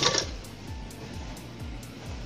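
A sewing machine stitches leftover chudi fabric in a quick, even run of repeated mechanical clicks that stays close and moderately loud.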